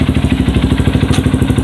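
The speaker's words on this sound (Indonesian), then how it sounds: "Kita hidupin mesinnya dulu ya teman-teman." A Honda motorcycle engine runs loud and close at a steady idle, with a fast even pulsing putter and a light mechanical clatter. There is no talking.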